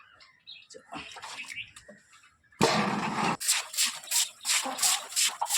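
Water splashes and pours loudly in bursts while an outdoor tap area is cleaned, after a stretch of softer shuffling and chirping birds in the background.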